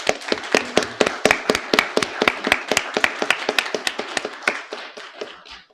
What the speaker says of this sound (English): ask the public if you can give her a round of applause